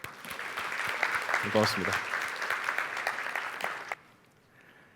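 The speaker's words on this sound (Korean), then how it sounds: "박수 한번 주실까요?" Audience applause at the NHN Cloud make IT 2023 conference fills the hall for about four seconds, with the speaker briefly talking over it before the clapping cuts off.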